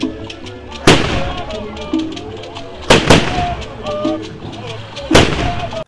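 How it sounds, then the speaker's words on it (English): Booming cannon blasts from a ceremonial 21-gun salute at a Nigerian royal festival honouring the Igwe ring out in several loud, widely spaced reports, over crowd noise, drumming and talk. "The festival begins with a customary 21-gun salute."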